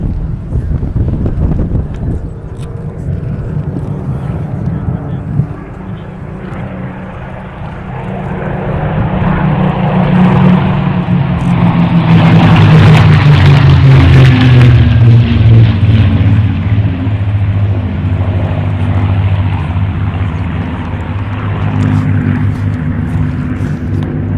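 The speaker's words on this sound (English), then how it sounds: "we know you'd rather listen to the sound of those beautiful Rolls-Royce V12 engines or some of the other engines displaying this weekend rather than listening to us" Propeller warbirds powered by Rolls-Royce V12 engines flying at the 2019 Omaka Airshow: a loud, droning engine roar with wind noise swells as the aircraft pass close by, its pitch sliding downward as it recedes.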